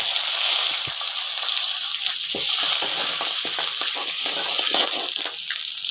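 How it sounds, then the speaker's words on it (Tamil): Mustard seeds, cumin, urad dal, chana dal, curry leaves and broken dried red chillies frying in hot oil for a savoury kozhukattai tempering, a steady close sizzle with crackling pops and stirring scrapes throughout. "கடுகு ஜீரகம் உளுந்தம்பருப்பு கடலைப்பருப்பு நல்லா பொருந்துச்சு கருவேப்பிலை அஞ்சு வரமிளகாயை கிள்ளி வச்சுருக்காங்க"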